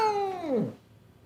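A cat gives a single close, loud meow that slides downward and fades, in a vet clinic setting.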